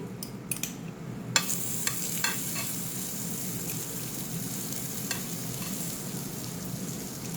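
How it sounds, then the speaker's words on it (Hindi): A brownie sizzles on a hot iron plate with continuous loud frying hiss and a few sharp crackles and pops early on, steady throughout with no talking. "ये हमारी सीजलिंग ब्राउनी"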